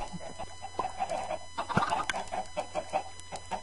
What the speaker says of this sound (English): now you be quiet, chickens